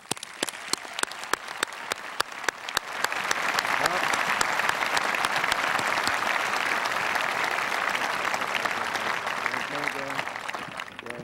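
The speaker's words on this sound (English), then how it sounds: "let's show our appreciation with a large round of applause for these donors" A few scattered claps swell into a full, sustained round of applause from a graduation audience honoring scholarship donors, steady and enveloping before thinning slightly at the end.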